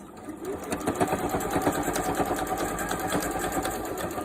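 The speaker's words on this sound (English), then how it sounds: "we're going to sew here and here at a 1/4 inch seam allowance" A sewing machine stitches a quarter-inch seam on a fabric bowl cozy, running steadily and close with a rapid, continuous mechanical whir of needle strokes.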